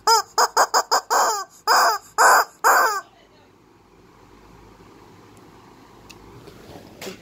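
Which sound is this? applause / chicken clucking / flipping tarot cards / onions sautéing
chicken clucking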